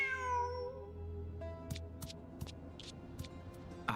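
A cat in a video game meows with a rising, drawn-out cry at the start, then softer clicks and ticks follow over a steady electronic hum.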